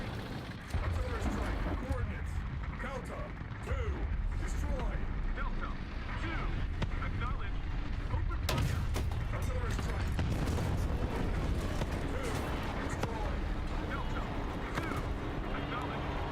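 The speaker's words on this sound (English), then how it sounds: "Yeah, you're getting bombed for sure." Bombs and shell explosions thud and boom continuously in the tank combat game War Thunder, a dense, loud battlefield rumble with scattered sharper blasts, heard under players talking.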